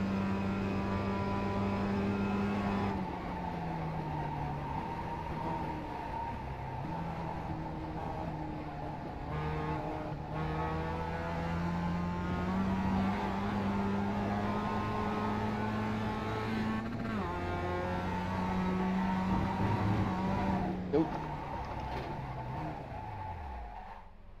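A Mazda MX-5 race car engine in iRacing at Phoenix Road Course drones loud and steady, its pitch climbing through each gear and dropping at several upshifts. No voices are heard.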